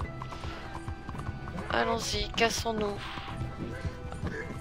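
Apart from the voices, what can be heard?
horse hooves and neighing in the video game Red Dead Redemption 2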